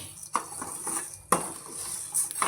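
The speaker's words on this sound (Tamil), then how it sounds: "நெக்ஸ்ட்டு தனியா வறுத்துட்ருக்கேன்" Coriander seeds dry-roasting in a pan while making homemade chilli powder, heard as sparse clinks and scrapes of a utensil against the pan with two sharper knocks, close and fairly quiet.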